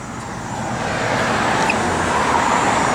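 A 1955 Chevrolet 210 with dual exhaust and electric exhaust dumps running, a loud steady broadband rumble that swells slightly and holds, with no voices.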